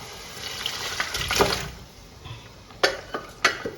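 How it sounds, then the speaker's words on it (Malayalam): Cooked mutton is poured from a vessel into boiling masala in a pot, with a wet slosh and splash followed by several sharp clinks of metal utensils against the pot. "ഞാൻ മട്ടൺ അതിലേക്ക് ഒഴിക്കാൻ പോവാണ് കേട്ടോ."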